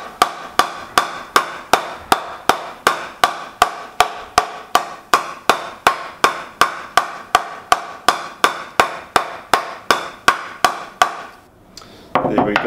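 A cricket bat with about 2 mm of concaving, a semi-oval round toe, 40 mm edges and a 65 mm spine is tapped in a steady, even run of some thirty sharp ping knocks, close and clear, before the tapping stops.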